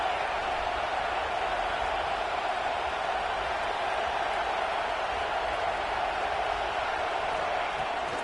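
Steady, dense stadium crowd roar from an NCAA 26 college football video game, a continuous broad wash of noise at constant loudness throughout.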